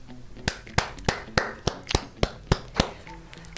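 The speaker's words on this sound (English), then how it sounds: "Okay, I am clapping" A person claps their hands about a dozen times at a steady, unhurried pace, each sharp clap close and distinct, with no talking in between.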